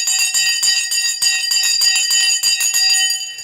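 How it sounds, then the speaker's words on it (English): A stock market opening bell rings continuously in rapid repeated strikes, loud and bright, sustained alone for several seconds during live trading coverage. "The bell has gone."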